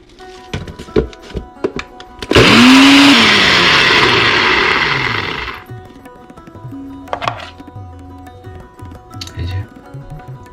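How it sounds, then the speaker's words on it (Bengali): An electric grinder whirs loudly for about three seconds as roasted spices are ground, rising then tapering off, with clattering knocks and handling sounds before and after. "এখন এর মধ্যে এই যে রোস্টেড মশলাগুলো ছিল সেগুলোকে অ্যাড করে দিচ্ছি। পুরোটাকে একটু ভালো করে গ্রাইন্ড করে নেব।"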